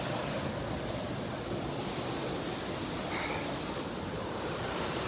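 River water flowing steadily, a soft continuous rushing wash heard alone at moderate distance with no talk.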